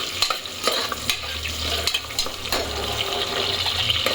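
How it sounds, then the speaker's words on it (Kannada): Thick-cut onion frying in a pan for chicken gravy and ghee rice, a steady loud sizzle with stirring scrapes and clinks running throughout, close up and with no voices. "ಈರುಳ್ಳಿ ಚೆನ್ನಾಗಿ ರೋಸ್ಟ್ ಆಗಬೇಕು"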